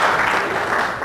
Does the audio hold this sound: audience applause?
yes